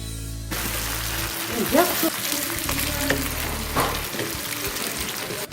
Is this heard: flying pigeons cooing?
no